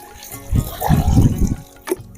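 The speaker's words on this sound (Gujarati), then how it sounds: "પછી આપણે એમાં બીજું ચોખ્ખું પાણી નાખશું થોડુંક" Clean water is poured into a bucket already holding murky water, a close gushing splash lasting about a second that fades to a final small slosh.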